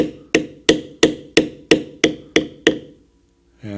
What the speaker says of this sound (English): Now I can continue beveling on this one